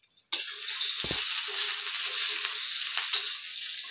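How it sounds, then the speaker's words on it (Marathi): Peanuts and garlic fry in hot oil in a pan for potato thecha. A loud, steady sizzle starts abruptly and runs throughout, with a brief low thump early on and a faint stir near the end. "शेंगदाणे आणि लसूण आता मस्त फ्राय करूया"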